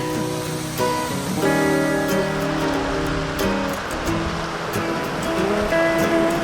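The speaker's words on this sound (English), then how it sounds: "it's waterfalls all around with just these wooden walkways above it" Waterfalls at Plitvice Lakes in Croatia, heard from wooden walkways, give a constant rushing roar. Faint tonal sounds drift over the steady water noise.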